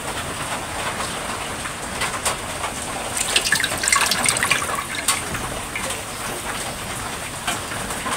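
Running tap water washing something in a home kitchen, a steady broadband splash with brief louder gushes midway, close and alone with no talk.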